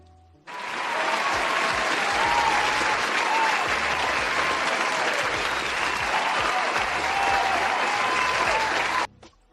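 A sustained burst of crowd applause, dense and even, runs for roughly nine seconds at full level before cutting off abruptly, dropped into a wrestling talk show livestream with no speech over it.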